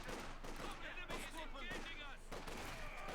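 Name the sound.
gunfire and skirmishing in video game Company of Heroes 2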